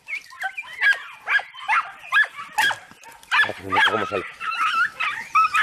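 Andalusian hounds (podencos) on a hunt give sharp barks, yips and whimpers in quick bursts, close by and overlapping with people talking throughout.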